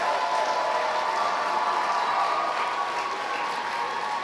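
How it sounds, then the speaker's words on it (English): Dense, sustained applause from a large audience at a nursing pinning ceremony, a steady wash of clapping and crowd noise filling the room throughout at even loudness. "give them the round of applause for what they've done"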